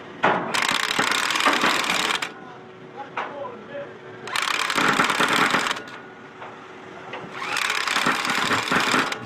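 Impact wrench breaking back bar lock rebar splice couplers, heard as three loud sustained bursts of rapid mechanical hammering separated by quieter pauses with background machinery.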